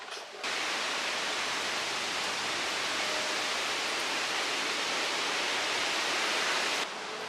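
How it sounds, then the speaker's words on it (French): A steady roar of storm wind rushes without pause for several seconds, loud and broad, then drops away abruptly at the end. "Vous entendez le bruit du vent"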